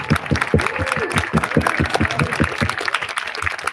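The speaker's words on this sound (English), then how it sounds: "Let's give them all a round of applause." A crowd at a drive-in concert claps for students selected for an all-region band, a loud burst of clapping mixed with crowd noise and a voice calling out briefly.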